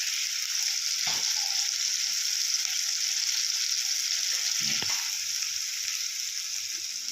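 Ingredients for a prawn and drumstick curry fry in a pan with a steady hissing sizzle, close and even, broken by a couple of dull stirring knocks.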